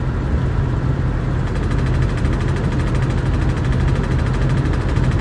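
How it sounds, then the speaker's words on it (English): A truck engine idles steadily during a live storm chase in Canada, giving a close, continuous low rumble with a vibrating shake and no pauses or talk. "My truck is shaking."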